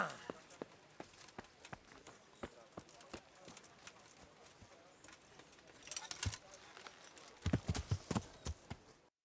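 Horse hooves clip-clopping in the medieval game Kingdom Come: Deliverance, a steady walking rhythm that quickens into a louder run near the end, with jangling tack and a voice talking over it.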